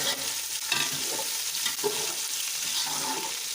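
Coriander and green chili being stirred into biryani masala with browned onions in a hot pan, a steady sizzle and fry under repeated scraping strokes of a spoon, close and continuous with no talk.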